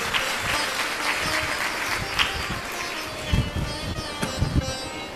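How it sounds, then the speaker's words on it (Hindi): A congregation at a religious discourse claps softly in a steady patter, with a few sharper, closer claps standing out now and then against the background. "मूलचंद जी के अलावा कोई और भी ताली बजा रहे हैं क्या?"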